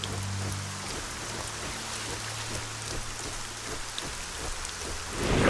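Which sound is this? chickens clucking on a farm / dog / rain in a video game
rain in a video game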